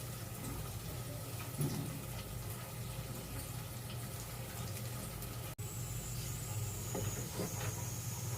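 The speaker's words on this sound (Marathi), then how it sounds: "तर आपल्या वजडीचा कुकर पण सुटतोय." A pressure cooker cooking vadi releases steam in a steady, loud hiss that runs the whole time, with a brief dropout near the middle and a faint higher whistle tone afterward.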